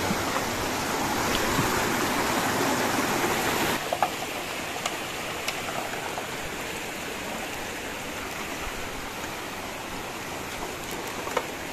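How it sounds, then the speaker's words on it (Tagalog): A rocky river rushes past, a continuous close broadband wash of flowing water that is loudest at first and then settles slightly quieter, with small clicks and no voices. "Dito kami sa mga babato na ilog."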